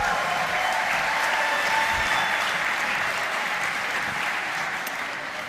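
A large indoor audience at a robotics competition final in Dortmund, Germany, applauds and cheers steadily and loudly throughout, a dense continuous wash of clapping without pause.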